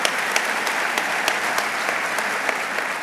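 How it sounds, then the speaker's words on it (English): Brief, steady applause from an audience at a government economic development funding announcement, honoring the moderator, with a few sharper claps standing out in the even wash. "Let's give her a round of applause."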